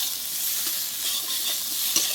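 Taro, potato and boal fish being sautéed and stirred in a pan, a steady close sizzle with scraping stir sounds, no talk.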